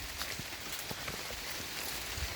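Steady soft rain falling outdoors in the countryside during a hunt for termite mushrooms, a continuous faint hiss with scattered drop patters and no talking.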